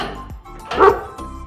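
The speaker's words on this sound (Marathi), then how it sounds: "भीमराव तुझ्या कुत्र्याला नीट समजून सांग." A dog gives a few short, loud, close barks in quick succession, the strongest one near the middle, with no talk.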